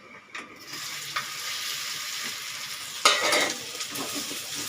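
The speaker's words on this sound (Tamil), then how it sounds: "இதை கொஞ்சம் கோல்டன் ஃப்ரையாக பண்ணிக்கலாம்" Taro root pieces fry in hot oil with a continuous bright sizzle, with a few stirring scrapes and a louder burst of frying partway through.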